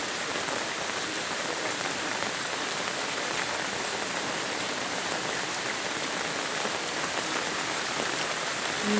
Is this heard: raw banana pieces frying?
no